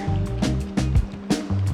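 Wading across a backcountry Arizona river on a fly fishing trip, with rhythmic splashing and sloshing water from close strides.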